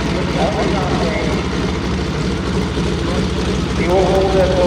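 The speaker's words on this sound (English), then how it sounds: "as we bring the airplane back to the neighborhood" A propeller airplane at the 2014 Virginia Air Show drones steadily and loudly throughout, with a faint whine rising near the end and a voice speaking underneath.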